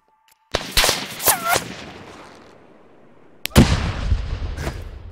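An attacking assault squad in the video game Arma 3 fires several sharp, loud gunshots with echoing tails, then a heavier burst of shots after a short quiet gap.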